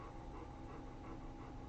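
A dog pants heavily and steadily in the background, a continuous rapid breathy rhythm heard faint against a quiet room with no talking.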